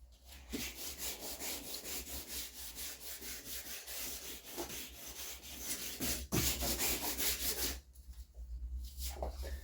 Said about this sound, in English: Even hand sanding sounds loud at 6 in the morning.